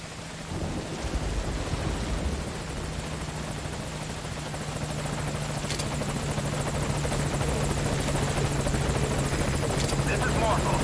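Helicopter Morpho from Metal Gear Solid V approaching a landing zone: a loud, constant rotor roar that thickens slightly toward the end, with a rain-like wash and a faint radio voice beneath it.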